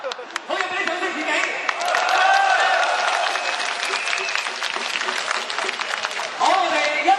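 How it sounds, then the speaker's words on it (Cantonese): Protest rally crowd at a Hong Kong July 1 march applauding themselves, with sustained dense clapping mixed with voices and shouts throughout, swelling near the start and end. "俾啲掌聲自己"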